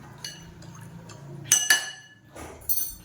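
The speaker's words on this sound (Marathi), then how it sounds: "चांगलं पाणी ढवळून घ्यायचंय." A spoon stirs warm water with half a spoon of salt and a pinch of asafoetida in a bowl, giving a few light clinks against the sides and soft liquid swirls, with quiet gaps between.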